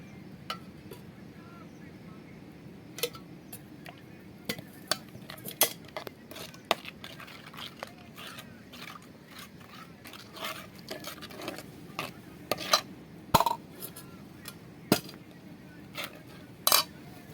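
A spoon scrapes and clinks against a pan while stirring a spice mixture of chili and salt, giving irregular close metallic taps over a quiet background.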